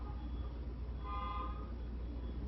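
A car horn sounds one steady honk of about half a second, moderately loud, over a constant low rumble of traffic and engine noise.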